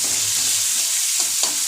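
Tomatoes with salt fry in a pan for a potol dolma and chicken dish, a loud, close, even hiss of sizzling with a couple of faint stirring scrapes.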